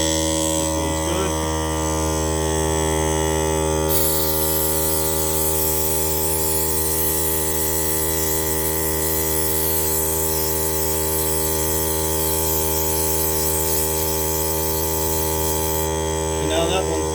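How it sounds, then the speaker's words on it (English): An air compressor runs continuously in a workshop while metal casting sand is blown away, giving a steady loud electric hum with a brighter hiss added after the first few seconds. "turn off the air compressor and you want to bleed out the air"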